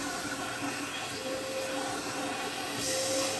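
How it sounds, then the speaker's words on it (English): A vacuum drones steadily while cleaning out the burrs of a Eureka Mignon coffee grinder, a continuous close hiss that swells slightly toward the end. "Use a vacuum if necessary."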